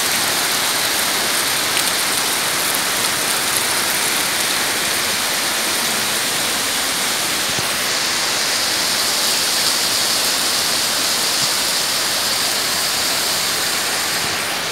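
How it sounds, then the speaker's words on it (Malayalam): Heavy rain pours steadily during flooding as water from the Achankovil River rises around homes in Kerala, a dense, continuous hiss with no break and no voices. "ശക്തമായ മഴയാണ് ഇപ്പോൾ പെയ്തുകൊണ്ടിരിക്കുന്നത്."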